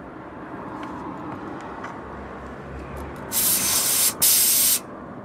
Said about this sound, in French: nous allons essayer le booster gonfleur